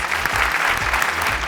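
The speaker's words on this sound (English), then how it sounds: "let's start off by giving them a big round of applause" An audience claps for competing teams at a school debate event, a dense, steady round of applause filling the room from start to finish.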